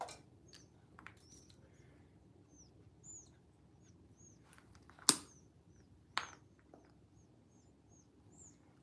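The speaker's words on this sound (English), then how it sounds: "Some baby woodpeckers over there." High, thin chirps and squeaks of baby woodpeckers repeat throughout, with a couple of sharp knocks and a quiet outdoor background.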